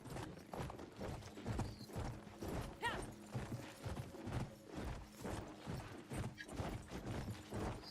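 Horse hooves clip-clop in steady rhythm in the Battlefield 1 video game, a soft, continuous galloping patter with faint mechanical rattles.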